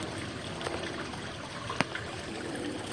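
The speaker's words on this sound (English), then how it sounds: "you can enjoy the nice sounds of water and the fish" Water trickling in a fish pond, a soft, steady wash of running water with a couple of faint splashes or clicks partway through, fairly quiet and with no voices.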